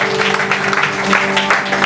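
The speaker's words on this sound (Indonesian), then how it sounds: "Tepuk tangan buat Tuhan Yesus." Sustained applause from a church congregation, an even wash of clapping with a faint tonal hum underneath, continuing throughout.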